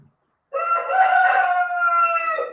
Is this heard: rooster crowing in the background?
yes